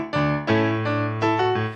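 Piano chords struck one after another with an even, mechanical touch and one note ringing over the rest, sustained tones overlapping across several strikes, played alone.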